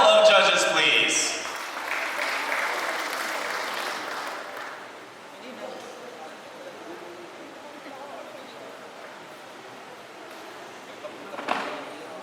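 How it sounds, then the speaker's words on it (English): An audience at a pageant coronation night applauds a panel of judges, a loud burst of clapping at the start that gradually thins and fades to scattered claps, with a brief sharp clap near the end. "a warm round of applause for our distinguished panel of judges"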